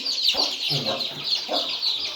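Country chickens clucking near their chicks in a rural farmyard, a steady mix of soft clucks and high chick peeping running throughout at moderate distance.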